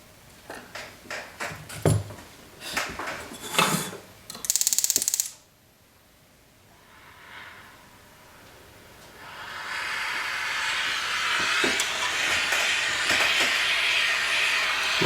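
A soldering torch flame heats solder on a sterling silver wave cuff bracelet. Irregular mechanical clicks and clatter come first, then a short quiet pause, then a steady, rising hiss from the flame.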